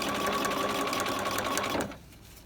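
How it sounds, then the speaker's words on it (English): A sewing machine runs steadily while stitching welt pockets into a garment, a fast even whir that stops abruptly near the end and leaves quiet room tone. "So we're going to sew"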